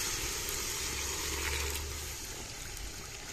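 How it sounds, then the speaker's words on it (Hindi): Water pours into a cooking pot of fried meat as a steady rushing splash and hiss, loud and continuous throughout with no talk. "हुण विच पा दिंदे आ पानी"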